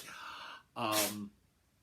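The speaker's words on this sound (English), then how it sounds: "I have a sneezing cat over there" A single short, breathy cat sneeze after a faint airy sound, quiet and close, with nothing else around it.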